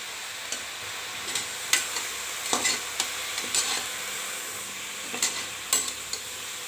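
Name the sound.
spinach with turmeric frying in oil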